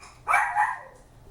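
A dog indoors gives one sharp, close bark that tails off quickly.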